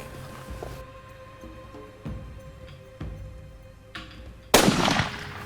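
A rifle fires once while hunting in Africa, a sharp, loud, close crack with a broad noisy burst near the end, following several fainter thumps and a steady background hum.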